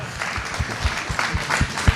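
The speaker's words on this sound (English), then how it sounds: "Round of applause for Heath Raftery" Audience applause at a live open-data event, a short burst of many hands clapping with some louder individual claps standing out, moderately loud and unbroken by talk.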